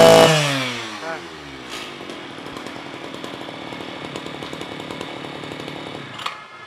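A small two-stroke brush cutter engine at full throttle whines at high revs after a loud opening burst, buzzing steadily with a rattling, sputtering edge, close by.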